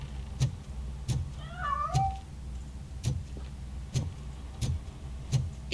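A cat in the RoboCop Rogue City video game lets out a couple of short meows as it escapes, over a low in-game hum and a regular series of soft thumping knocks, with no talking.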